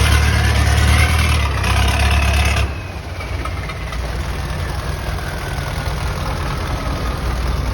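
Motors on the back of a Bangkok klong boat run loud and close, with a low engine drone that eases off after a few seconds into a steadier, quieter chug under broad rushing noise.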